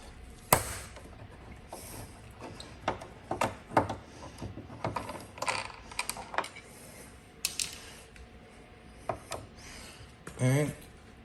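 A ratchet clicks in irregular bursts at close range while removing two Torx 30 bolts from a Kia Stinger side mirror, mixed with scattered handling knocks and no speech.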